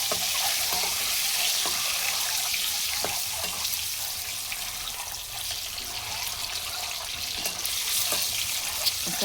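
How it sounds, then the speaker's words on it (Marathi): Eggs with turmeric frying in a pan, giving a steady, moderately quiet sizzle with faint crackles that runs unbroken for about nine seconds, with no voices. "याच्यामध्ये मी अंडे सगळे फ्राय करून घेणार आहे"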